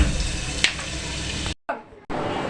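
Loud, steady sizzling of chopped onions frying in hot mustard oil in a wok, close up, briefly interrupted by a short gap before resuming.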